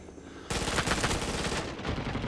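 Rising Storm 2: Vietnam gunfire bursts in abruptly after a quiet half-second, a loud rapid rattle of automatic weapons overlapping into a dense fusillade that keeps going to the end.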